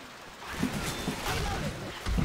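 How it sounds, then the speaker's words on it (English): Heavy rain in the zombie game Left 4 Dead 2 makes a steady watery hiss that runs under a voice as he talks, with a few thumps mixed in. "It is raining quite heavily."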